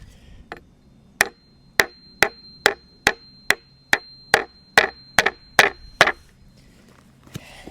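An axe strikes a piece of wood about a dozen times in a steady rhythm, each sharp, close knock ringing briefly, the blows coming roughly every half second before stopping.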